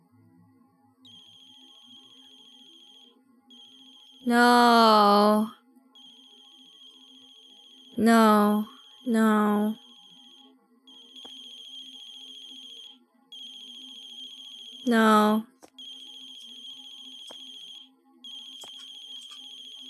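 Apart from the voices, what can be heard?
phone ringing in The Closing Shift video game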